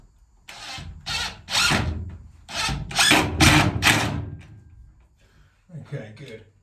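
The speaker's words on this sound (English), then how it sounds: "I always struggle drilling left-handed." An electric drill whirs in a series of short bursts while prepping narrowboat windows for trim, several quick runs in a row, followed by a brief spell of quieter handling sounds.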